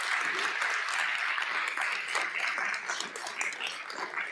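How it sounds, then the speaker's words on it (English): A seated audience at an MLK keynote event applauds the guests on stage with steady, dense clapping at a consistent moderate volume that holds for the whole stretch without a break. "Please give them a round of applause for sitting with us."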